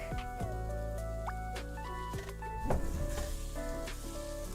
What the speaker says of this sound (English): I'm gonna take my little spatula and put in some of the garlic.